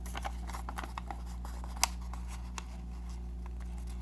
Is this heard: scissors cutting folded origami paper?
yes